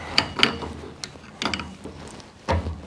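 A wrench ratchets in short clicking bursts, about four close, crisp spurts with pauses between, snugging a nut on a tubular control arm during suspension work.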